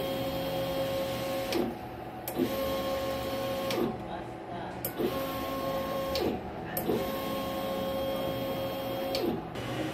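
An inkjet printer runs a nozzle check, a steady mechanical whir with a repeating cycle of carriage shuttles and clicks roughly every two seconds, with a voice speaking over it.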